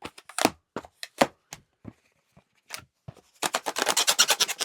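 Latex party balloons being rubbed and twisted, producing sharp squeaks in irregular bursts, then a dense run of rapid rubbing squeals at the end, close and loud with no talking.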